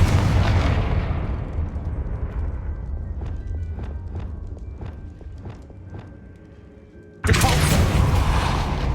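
A Confringo spell explodes in the video game Hogwarts Legacy with a loud burst that decays into a rumbling tail. A series of sharp, regular clicks follows, then another sudden loud blast near the end.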